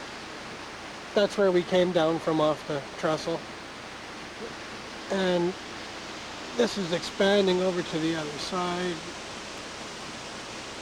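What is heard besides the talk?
big waterfall below railway trestle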